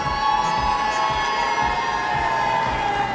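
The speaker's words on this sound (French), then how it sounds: "on applaudit bien fort, mesdames et messieurs" A large crowd cheers steadily at a French sporting event as a home competitor, Vincent Vallée, is presented, forming a dense continuous roar with a sustained tone running under it and no clear talk.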